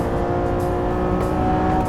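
The naturally aspirated V12 of a Lamborghini Revuelto plug-in hybrid roars at high revs, a loud, steady, dense engine note with no break.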